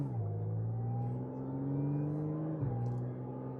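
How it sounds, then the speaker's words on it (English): An Audi S4 engine with its factory exhaust hums and drones at a steady rpm, rising slowly in pitch, dropping once sharply, then settling back with a low burbling undertone, close and alone. "Oh man, and it burbles too from factory."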